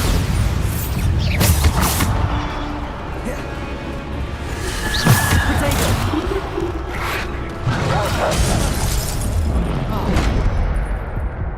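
The Bombarda blasting spell in Hogwarts Legacy produces booming explosions inside a dense, continuous wash of combat noise and crashes, with voices calling out over the din.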